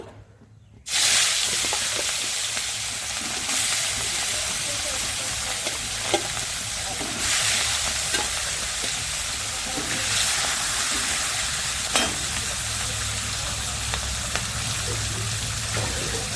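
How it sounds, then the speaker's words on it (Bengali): Pieces of katla fish drop into very hot oil in a wok and burst into a loud, continuous sizzle after a quiet opening second, with occasional pops and spatters throughout. "তেল একেবারে গরম হয়ে গেছে এবার আমি মাছগুলো ভেজে নেব"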